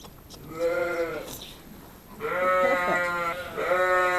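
A sheep flock on a South Wales farm during lambing, a recovered ewe with her lambs, bleating in several drawn-out calls close by, with quiet pauses between them.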